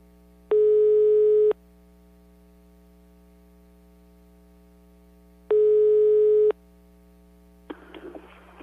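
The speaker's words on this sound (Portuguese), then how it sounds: "Deixa eu ligar aqui. É o Chico Fernandes" A telephone ringback tone sounds while a call is placed, two long even one-second rings about five seconds apart over a low mains hum, followed by a faint rustle of handling on the line.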